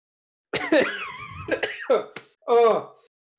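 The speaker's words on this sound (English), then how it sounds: "I started having a coughing fit" A short burst of harsh coughing and throat clearing, close to the mic, in a few loud bursts separated by brief pauses.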